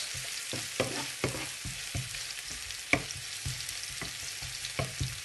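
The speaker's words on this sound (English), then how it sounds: "So we're gonna put onion and garlic. Let it get soft." Onion and garlic frying in a pan for spinach and cheese stuffed bread: a continuous sizzle with repeated scrapes and knocks of a utensil stirring, close up and free of talk.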